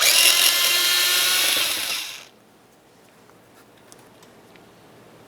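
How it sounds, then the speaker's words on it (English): A power tool whirs loudly and steadily as it removes the 10mm bolts on a 2007-2012 Nissan door, then winds down and stops about two seconds in, leaving near silence. "can gain access to our two 10mm headed bolts in this area. Remove the pair."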